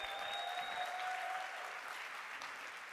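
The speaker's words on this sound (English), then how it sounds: "Give yourself a big round of applause for me, please." An audience at a corporate sales event breaks into a round of applause, dense clapping that fades slightly toward the end, with a faint tonal whine in the room at first.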